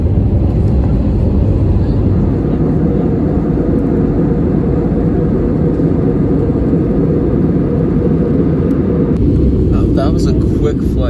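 A Lufthansa airliner bound for Frankfurt roars through its takeoff run, a loud, continuous low engine rumble heard from inside the cabin that holds steady throughout.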